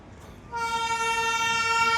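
A train horn blares and holds steady over the low rumble of a nearby train, starting abruptly after a brief quieter moment.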